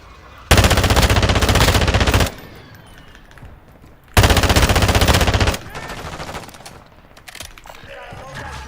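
Automatic gunfire in the Warzone 2 video game: two long, loud bursts of rapid shots, each about two seconds, separated by a quieter pause with faint background game noise and scattered clatter afterward.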